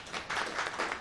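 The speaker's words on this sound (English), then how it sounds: "Clap for Ethel Payne." A panel audience applauds for Ethel Payne at a discussion of Ida B. Wells and alternative reporting, with a dense, steady burst of clapping from many hands that lasts about a second and has no voices.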